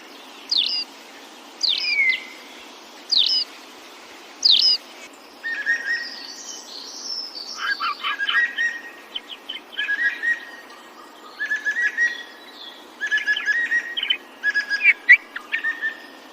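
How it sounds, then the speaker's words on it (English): Jungle birds chirp and whistle in bursts, first a few separate sharp calls, then busier overlapping tweeting phrases, clear and fairly close against a quiet background. "Amidst the enchanting birdsong and the soothing embrace of the forest"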